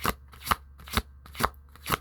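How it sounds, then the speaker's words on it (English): Tarot cards shuffled by hand in a series of five crisp riffling bursts, roughly half a second apart, close and clear with no talking. "I will shuffle one more time."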